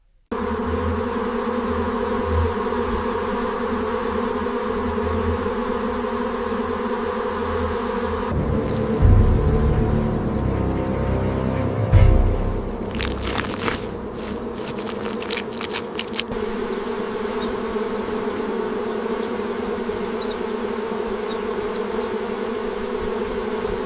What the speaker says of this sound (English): even as the furious swarm of bees prepares to rush out and defend the nest